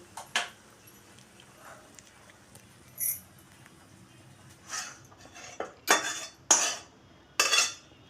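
A cooking pot of egg and pointed gourd curry lifted off the stove, giving scattered metallic clinks and clatters of pan and utensils, sharp and close against a quiet kitchen background.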